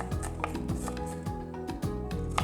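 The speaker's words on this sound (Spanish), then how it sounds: "voy a trocear bien pequeñitos 50 gramos de pimiento morrón, 50 gramos de cebolla bien troceadita" A knife taps steadily on a cutting board, finely chopping bell pepper and onion for Dominican meatballs, with quick regular strokes close by and no talk.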